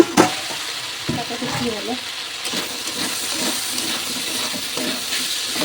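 Potato bhaji frying in a pan and being stirred, a close steady sizzle with scraping stir strokes and a brief sharp clatter at the start, with a voice speaking briefly over it.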